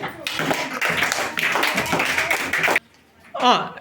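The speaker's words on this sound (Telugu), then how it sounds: "క్లాప్స్ కొట్టండి" Children clap together in a classroom during a word game, a dense burst of fast irregular claps lasting nearly three seconds before stopping abruptly, followed by a brief adult voice.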